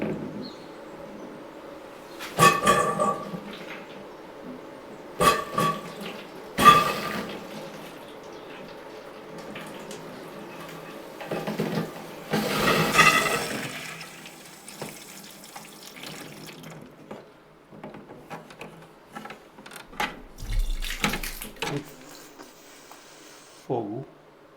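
Water runs into a toilet cistern reservoir, a steady gurgling trickle with occasional louder splashes and bursts, while people talk intermittently nearby.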